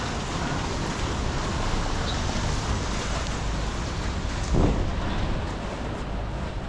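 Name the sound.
rain falling on a street in Macau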